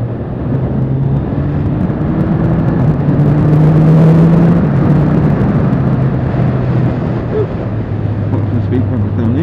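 A motorbike rides along an open road, giving a steady, loud broadband roar of engine and wind rush that holds nearly constant throughout with only slight swells.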